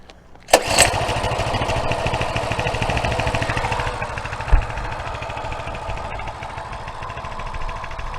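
A small engine on a Coleman CT200U mini bike sputters to life after a sharp pull, then runs at a steady, buzzing idle, loud and close.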